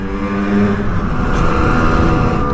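A Simson moped engine runs steadily under a rider, with a continuous buzzing drone and slight throttle swells, close and fairly loud, no talking.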